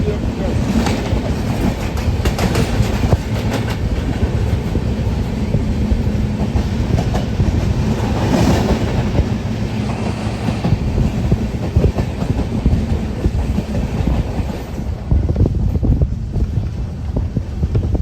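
Gomti Express passenger train rolling along the rails on a foggy winter run, a loud continuous rumble with wheel clatter and wind buffeting heard from inside the moving coach, no talk.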